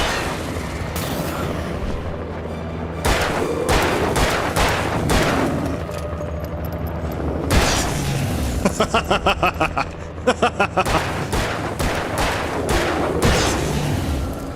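Gunshots in the video game Alan Wake, a series of sharp blasts and quick rapid bursts spread across the stretch, loud over a constant low game rumble.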